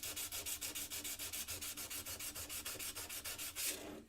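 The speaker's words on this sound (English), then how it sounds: "literally just sit here and sand it until it is gone" Rust is hand-sanded off a metal tool in quick, rhythmic back-and-forth strokes, about six per second, close and fairly quiet.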